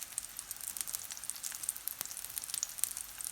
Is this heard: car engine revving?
no